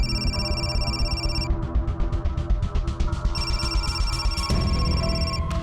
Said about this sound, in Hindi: प्रकाश सर का फोन है